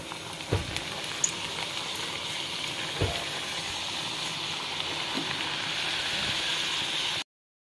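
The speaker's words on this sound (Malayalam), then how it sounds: "ഇനി നമുക്ക് നമ്മുടെ ഷാലോ ഫ്രൈ ചെയ്ത് വെച്ച് പങ്കിയെടുത്ത് ഒന്ന് ഫ്രൈ ചെയ്തെടുക്കാം" Shallow-fried chicken banki pieces sizzle in oil in a hot kadai, a steady close hiss with a few soft knocks and pops near the start, stopping abruptly at the end.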